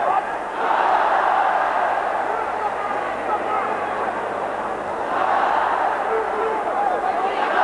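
At a boxing match between Sot Chitalada and Gabriel Bernal, an arena crowd roars in a continuous broad surge that swells at times, with a commentator talking over it.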